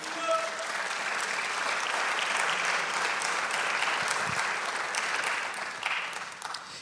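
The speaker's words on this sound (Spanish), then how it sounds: "Denle el aplauso al Señor." A church congregation applauds steadily during a worship service, a broad, continuous wash of clapping held at an even level for several seconds before tapering slightly at the end.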